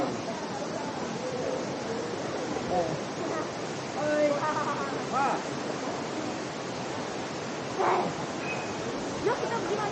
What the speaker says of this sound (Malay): Kita di waterfall.